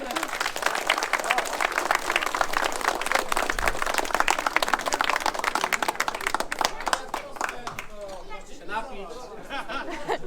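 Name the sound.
audience applause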